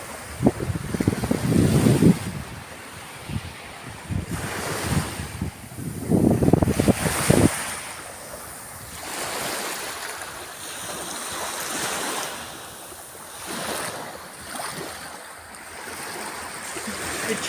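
Waves of the Tyrrhenian Sea in Tuscany wash onto the shore at night in slow surges with soft rushing water and some wind noise on the microphone, calm and fairly close.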